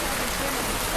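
Steady rain pours down on a flooded village in Naruar, Madhubani district, Bihar, a dense, continuous hiss of drops on water and surfaces filling the whole second with no break.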